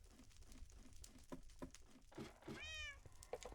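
A Minecraft cat lets out a single clear, rising meow near the end, preceded by soft scattered ticks and taps in a quiet game world.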